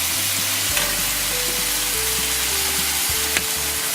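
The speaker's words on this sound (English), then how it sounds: "We'll just brown up your pork for a little bit" Ground pork browning in a pan for mapo tofu, giving a steady, close sizzle with a faint occasional stir or scrape, and no voices.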